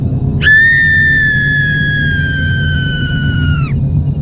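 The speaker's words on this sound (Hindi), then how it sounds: "अब वो बूढ़ी चुड़ैल जोर जोर से चीखने लगी" A high, sustained shriek holds steady for about three seconds and then cuts off, loud over a low rumbling drone, like a horror sound effect of an old witch screaming.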